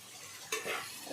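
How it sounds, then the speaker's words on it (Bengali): Mashed eggplant for smoky begun bhorta frying in a pan: near-silent at first, then a brief stir or clatter followed by a steady, moderately loud sizzle, with no talking. "এবার এটা কিছুক্ষণ ভাজা ভাজা হবে একটু।"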